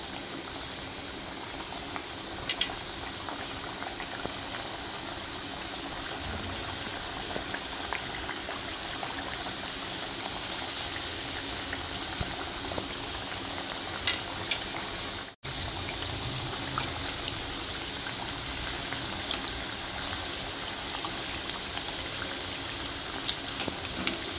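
Wheat flour kapnya deep-fry in oil over a medium flame, a constant dense bubbling hiss that runs without letup and briefly cuts out partway through, with no voices.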